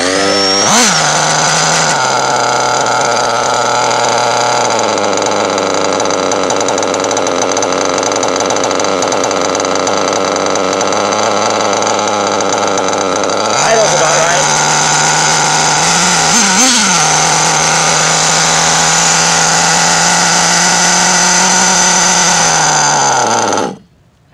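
A modified Mugen RC truggy's nitro engine runs loud and steady throughout, a continuous high-pitched buzz holding at idle, then stepping up in pitch around the midpoint and briefly surging before cutting off abruptly at the end.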